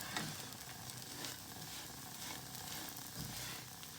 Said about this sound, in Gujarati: કોથમરી નાખી દઈશું અને પ્રોપર હલાવી નાખશું